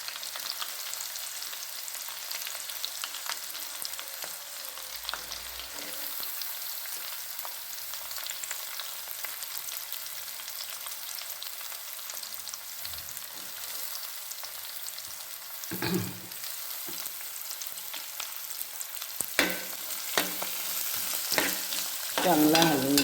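Onion and green chili fry in a pan for pitla, giving a steady loud sizzle with occasional scraping stirs that grow more frequent toward the end.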